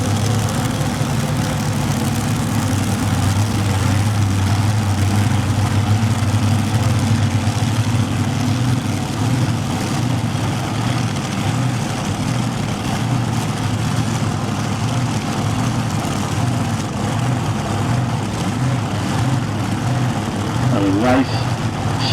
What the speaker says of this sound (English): we get a chance to hear some alcohol going through the small block